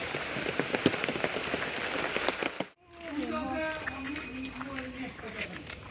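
Rain falling steadily over a village on a cold day, a dense close patter throughout, with a person talking over the first half.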